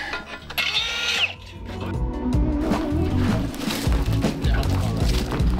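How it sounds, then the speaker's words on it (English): A power drill whirs in short bursts, close by, drilling seat-mounting holes in a 1955 Chevy, with clunks and handling noise between the runs. "mark the holes, drill them"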